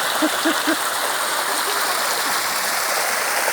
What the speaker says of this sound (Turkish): Oluklardan akan su da buradan akıyor.